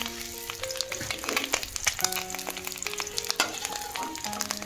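Swan eggs fry in a little oil in a pan, sizzling and crackling steadily and close, with scrapes and stirring knocks as they are turned. Some tonal kitchen hum runs underneath.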